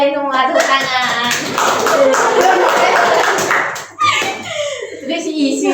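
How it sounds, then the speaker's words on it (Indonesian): A group claps together in a counselling class session, a dense burst of many hands overlapping with children's and adults' voices talking and calling out, close and loud. "Oke, tepuk tangan"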